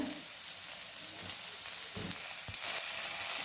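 Okra fries in a pan while crushed peanut powder is stirred in, giving a continuous moderate sizzle with a few soft scraping stirs.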